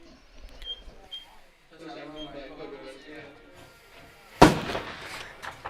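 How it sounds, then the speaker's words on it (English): A cannon fires after a touchdown at a football game: one sudden, loud boom cuts through steady live commentary and a murmuring crowd. "there's that cannon shot"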